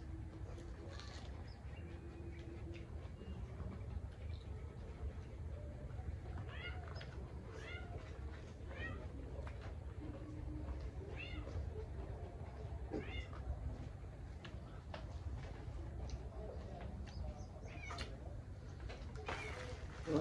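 Cat meows from what sounds like a newly arrived cat, repeated several times at a distance over steady low background noise, with faint voices now and then.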